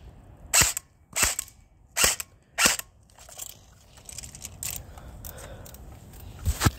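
A Gameface RK74 airsoft gun fires four sharp, close pops in an even rhythm, followed by quieter mechanical clicks and rattles.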